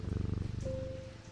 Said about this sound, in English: Oh, kitty.